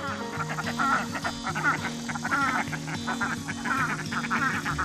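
Several ducks quack continuously, a loud nearby chorus of overlapping nasal calls with a low droning hum beneath.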